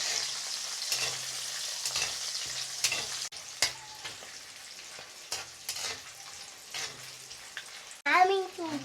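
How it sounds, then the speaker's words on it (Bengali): Whole spices, green chilies, black and green cardamom and cinnamon, fry in oil for an egg curry, giving a soft, steady sizzle with occasional stirring scrapes, fairly quiet and close. "এখন একটু ভেজে নিব।"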